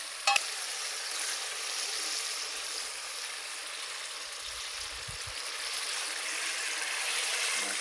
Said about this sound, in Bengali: মশলা খুব ভালো করে কষে নিয়েছে, ডিমটা দিয়ে দেবো।